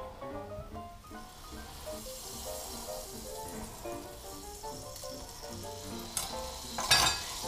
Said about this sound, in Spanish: vamos a echarle un poquito de mantequilla